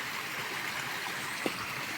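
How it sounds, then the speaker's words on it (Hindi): Steady broadband rush of flowing water, like a stream nearby, continuous and even throughout with a brief small knock partway through. "सुन रही है आपको पानी की आवाज़"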